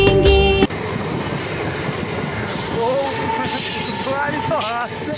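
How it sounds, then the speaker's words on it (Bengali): A train pulls into an Indian station with rumbling wheels and squealing, rising and falling horn-like tones, loud and close, mixed with chatter from people nearby and a snatch of music at the start. "যে ট্রেন ঢুকে পড়েছে, গানা গাড়ি হর্ন দিচ্ছে ট্রেন"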